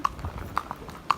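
Horse hooves clip-clop in an uneven trotting rhythm on a horseback ride in Vieques, Puerto Rico, several sharp knocks close by over a quiet background.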